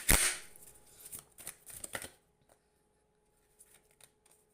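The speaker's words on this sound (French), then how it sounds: "Laissez-moi brasser les cartes," Playing cards shuffled up close, a crisp riffle burst at the start followed by a few quicker shuffles and light taps, then near silence with faint card handling.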